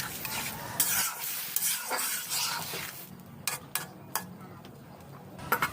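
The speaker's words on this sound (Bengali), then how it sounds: "তো ঝোলটা সুন্দর করে ফুটে উঠছে" Eggplant curry broth made with local brinjal bubbling and simmering in a pan on a village stove, a steady soft burble with occasional sharp clinks and pops standing out alone, no voices.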